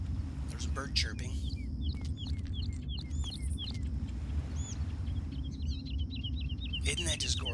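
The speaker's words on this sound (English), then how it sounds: "There's a bird chirping." Birds chirp in the Far Cry video game, with repeated short tweets scattered over a steady low ambient hum and a voice talking over them.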